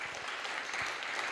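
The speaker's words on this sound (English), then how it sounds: "just a round of applause for everybody one more time." A tech demo day audience claps together, a dense, even patter of applause held at a moderate distance for the whole moment without voices standing out.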